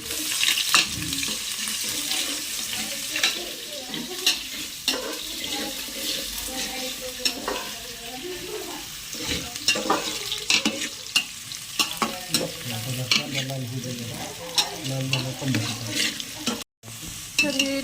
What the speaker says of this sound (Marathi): पहिल्यांदा कांदा लय भारी भाजून घ्यायचा